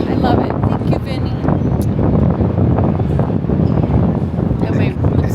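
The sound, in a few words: wind blowing on a breezy hotel rooftop in San Juan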